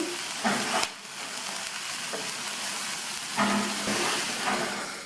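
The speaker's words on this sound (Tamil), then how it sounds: "எண்ணெயிலேயே பீன்ஸ் 3 நிமிஷம் வதங்கிடுச்சு" Green beans sautéing in oil in a pan, giving a continuous soft sizzle broken by a few louder scraping stirs with a spatula, close by and without speech.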